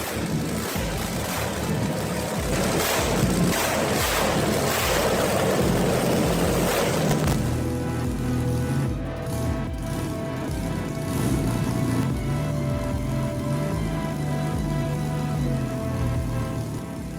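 A 27-liter Rolls-Royce V12 tank engine runs on a stationary test stand, producing a loud, steady, rumbling roar. It shifts partway through into a deeper, droning hum with sustained low tones.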